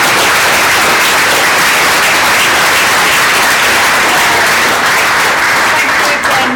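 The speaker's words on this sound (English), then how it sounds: "let's give our panellists a massive round of applause." A live audience at an edtech investment panel event gives the panellists a loud, sustained round of applause, dense clapping filling the room at close range without break.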